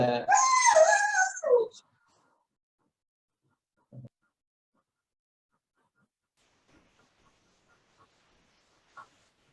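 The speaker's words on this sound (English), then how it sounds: "our dog is disturbing." A dog howls and whimpers loudly nearby for about two seconds, followed by long silence broken by a few faint brief sounds.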